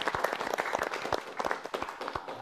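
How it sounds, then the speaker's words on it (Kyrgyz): A studio audience applauds a football panel's guests, giving a brisk, steady burst of many hands clapping at close range with no talk over it. "Дагы бир жолу кол чаап койсоңуздар."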